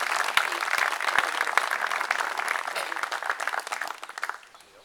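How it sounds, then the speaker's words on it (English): Steady, dense applause from a large audience, loud and sustained, tapering off near the end. "I would appreciate another applause for the use of this facility."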